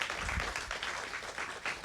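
Audience applause after a line at a social justice speaker series talk, a steady wash of many hands clapping at moderate level, even and continuous throughout with no voices over it.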